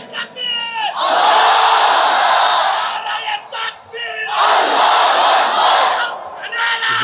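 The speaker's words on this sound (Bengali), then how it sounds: "সবাই একটা তাকবীর দেন, লিল্লাহি তাকবীর।" A large crowd at an outdoor Islamic waz sermon gathering answers a call with two loud, sustained roars of the takbir. A lone voice leads briefly before each response.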